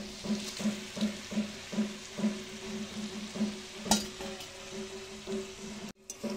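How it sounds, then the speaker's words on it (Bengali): Fried potatoes, seasoned with salt and turmeric, are stirred into country chicken cooking in a pan in a village kitchen, giving a steady low sizzle under a rhythmic series of scraping stirs and a sharp clink near the end. "এবার যে আলুটাকে ভেজে রেখেছিলাম আগে লবণ আর হলুদ দিয়ে, সেটাকে মাংসের মধ্যে দিয়ে দেবো"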